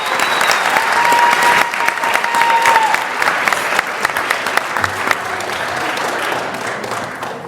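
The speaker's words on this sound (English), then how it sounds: "how about one more round of applause for all the participants and volunteers for the elementary school basketball tournament" An audience at a school committee meeting breaks into sustained applause, many hands clapping steadily and fairly loudly, slowly thinning toward the end.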